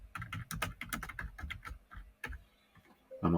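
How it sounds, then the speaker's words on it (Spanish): Rapid typing on a computer keyboard while entering data into budgeting software, a dense run of close key clicks that thins out into a few scattered taps before a louder final knock. "lo cual lo vamos a digitar completamente desde el teclado."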